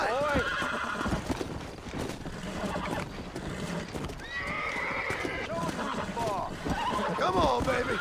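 A horse in Red Dead Redemption neighs repeatedly with whinnying calls over clip-clopping hooves and someone talking throughout.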